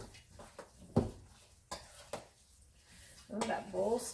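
Stuffed pepper filling stirred in a bowl, a few scattered scrapes and clinks of a utensil against the bowl with quiet gaps between, ending in a brief rustle of mixing.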